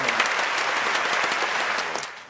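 A studio audience claps for a guest on a talk broadcast, a lively close burst of many hands that holds steady and then tapers off at the end.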